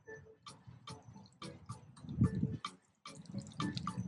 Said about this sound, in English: I'm gonna go ahead and water it around the root bulb.